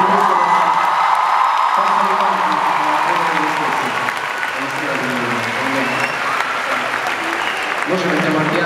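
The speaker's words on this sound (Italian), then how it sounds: "Un grande applauso anche per Anaïs e Chiara, gli altri, per favore." Stadium audience at the Stadio Olimpico in Turin applauding: dense, loud, sustained clapping from a large crowd with some cheering and whoops, a voice faintly heard over it.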